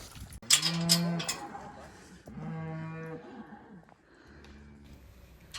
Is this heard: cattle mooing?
yes